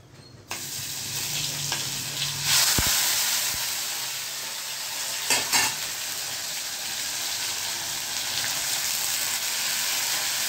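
Fenugreek seeds, cumin and asafoetida frying in hot oil make a loud, constant sizzle and hiss. A couple of sharp clatters from stirring cut through partway, and no one speaks.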